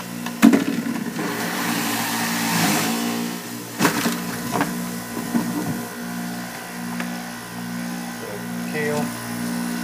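Carrots snapped in two and pushed into a running juicer: a steady motor whine, with several sharp cracks and grinding bursts as the pieces go in.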